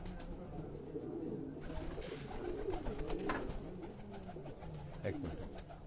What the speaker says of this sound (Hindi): ये मियां फैसल अब्बास के जलालपुर भटियां से उनके ये परवाजी कबूतरों का हम आपको शो करवा रहे हैं